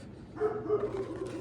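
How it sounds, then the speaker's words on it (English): A single short dog bark, muffled and somewhat distant, in an otherwise quiet room. "I do apologize for my dog barking."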